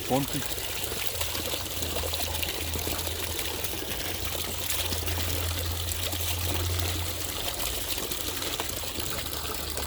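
Water trickles and pours steadily from a stream source in a dark forest, a continuous close splashing wash with a low hum underneath throughout.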